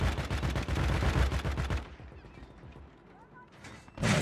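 Gunfire in a ranked Warzone match, with rapid loud cracks rattling close for nearly two seconds, then quieter sparse shots and a muffled lull, before a sharp burst returns at the end.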